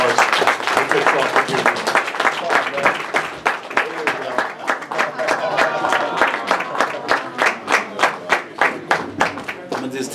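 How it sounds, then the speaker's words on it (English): Audience applause at a post-fight boxing press conference for two boxers, dense clapping from a crowd that gradually thins into sparser, distinct claps, with murmured voices underneath. "So another round of applause."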